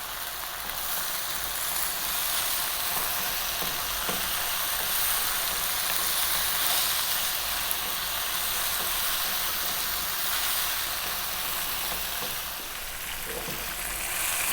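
Beef cooks with cumin and green cardamom powder in a pot, giving a dense, even sizzle that runs throughout, with soft stirring scrapes now and then and no voices.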